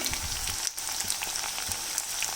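Cauliflower shallow-frying in oil for aloo gobhi sizzles densely and continuously with fine crackling pops, close and fairly loud, with no talk.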